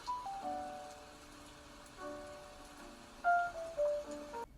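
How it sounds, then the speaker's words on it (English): Ambient lo-fi music track layered with soft rain sounds, quiet gentle tones drifting over a faint pattering hiss, with a few brighter melodic notes near the end and no voices. "which is basically an ambient lo-fi music type of video that sounds something like this"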